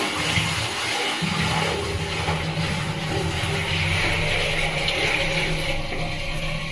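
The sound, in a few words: water poured into floor-mount toilet to check for leaks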